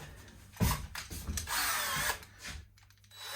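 A power drill with a fine bit whirs in short bursts, starting and stopping with a steady high-pitched spin between pauses, close up.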